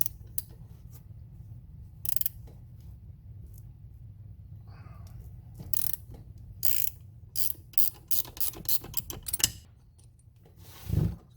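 A hand ratchet cracks loose half-inch bolts on a turbo exhaust housing, giving repeated short clicking bursts that grow busier toward the end, close and fairly quiet against a low background hum.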